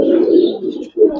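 Giribaz and coloured pigeons in a loft give a close, sustained throaty coo, which breaks off briefly before a second short coo begins.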